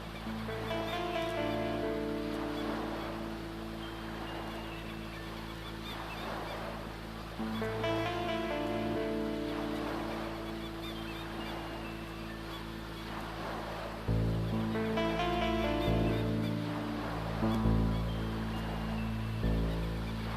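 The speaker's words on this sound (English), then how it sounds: "Smaller creek filters into this 6 Mile Creek, and it has some great little waterfalls we enjoyed seeing." A small creek with little waterfalls spills into Six Mile Creek, making a steady, rushing wash of water that swells slightly partway through, with no voices.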